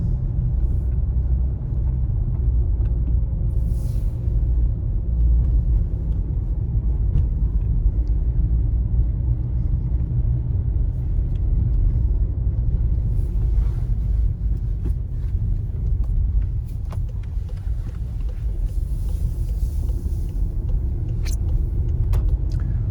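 A 2018 Volkswagen Golf 1.6 TDI Highline drives around Lake Abant in fog, giving a steady, loud low engine and road rumble from inside the cabin with faint wind, no voices and little change throughout.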